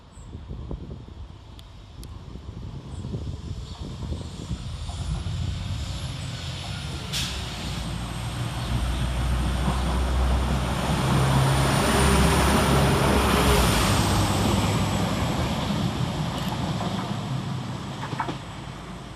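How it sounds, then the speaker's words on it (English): A Class 195 diesel multiple unit crawls around a curve into Woodhouse railway station, a low rumbling engine drone building gradually with wheel and brake hiss, growing louder as it approaches, with wind noise and no talk. "crawling around the corner is 195003"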